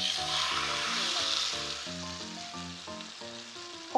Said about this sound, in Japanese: ここで触らずに強火で1分ちょっとかな、焦げ目がつくくらいまで焼いていきましょう。